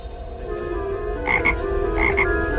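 A small toad croaks in a steady, low, rattling rhythm, with a few brighter, louder calls near the end. The croaking stands alone, with no voices.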